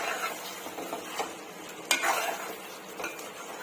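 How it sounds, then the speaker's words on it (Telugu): A spoon scrapes and stirs a Nellore-style chicken fry with chili powder and coriander powder in a pan, a continuous close sizzle with a sharper clink just before the two-second mark. "ఒకసారి బాగా కలిపేసుకుందామండి."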